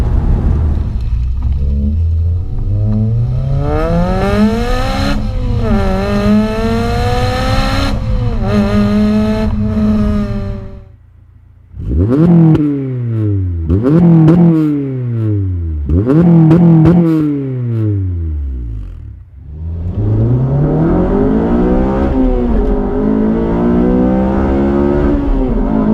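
Honda Civic Type R FD2 engine revving hard through several gears, rising howls climbing and dropping with each shift, a brief lull, then more sharp bursts of acceleration, loud and close throughout.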